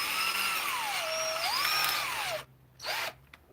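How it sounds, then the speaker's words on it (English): Power drill boring a pilot hole into a hardwood cup blank for lathe turning, a steady whine rising and falling in pitch for about two seconds, then a short second burst after a brief pause. "so I have to pre-drill this hardwood"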